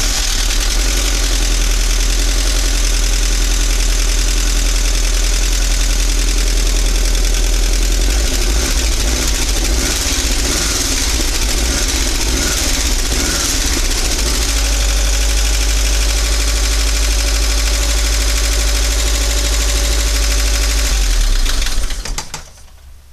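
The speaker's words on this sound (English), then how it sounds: "This engine has a lot of clatter, most likely in the heads, just because it hasn't been run very much and it's not warm right now." A Volkswagen Vanagon 1.9 liter engine, not yet warm and little run, idles with a constant clattering, ticking rumble from the heads, loud and close, before cutting off abruptly near the end.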